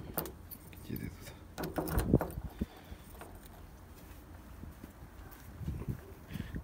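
Keys jangle close by in short metallic bursts, loudest around the middle, over low background noise, near a GAZelle van with a ZMZ 402 engine, with faint shuffling and a voice in places.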